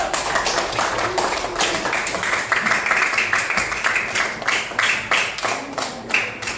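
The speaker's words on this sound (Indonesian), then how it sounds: "Coba tepuk tangan untuk kita semua dulu." A group claps along together, a dense run of sharp hand claps keeping a fairly steady pulse for several seconds, close and fairly loud.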